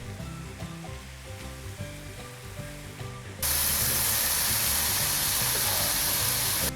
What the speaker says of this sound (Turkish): pırasalarımızı salça ve baharatlarla güzelce karıştırıyoruz